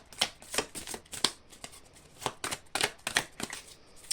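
Tarot cards being shuffled by hand during a reading, crisp riffling bursts of card edges coming in quick irregular clusters, close and fairly soft, with no talking.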